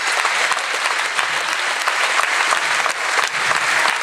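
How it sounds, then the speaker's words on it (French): An audience applauds steadily for coaches at a thank-you gathering, a dense, loud wash of clapping that lasts the whole stretch with no break. "on peut toutes les applaudir, toutes les applaudir très fort"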